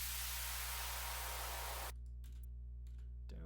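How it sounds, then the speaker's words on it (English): A white noise riser effect in a future bass track: a hiss of broadband white noise swells for about two seconds, then cuts off abruptly, leaving near silence with a low hum and a few faint clicks. "This here is a white noise riser"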